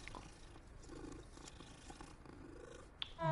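A kitty being petted in Hogwarts Legacy purrs softly and continuously, a low rumbling hum that stays quiet and steady, ending with a small click and a brighter tone.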